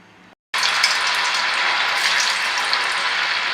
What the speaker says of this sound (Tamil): இப்போ நம்ம பொரிச்சு எடுத்துடலாம்.